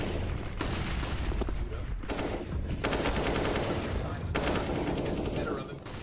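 Counter-Strike gunfire in a pro match between Vitality and NaVi fills the clip with sustained rapid shots and bursts, loud and close, while a caster talks over the action.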